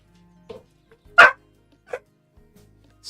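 A dog indoors gives one sharp, loud bark, then a quieter yip, with small knocks and faint household sounds around it.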